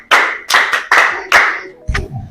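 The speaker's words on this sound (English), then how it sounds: "Clap for your uncle. Esan clap. Another one. Another bigger one." A handful of close, sharp hand claps in an uneven rhythm, six distinct claps with short gaps between them, loud and near, with a faint voice at the very end.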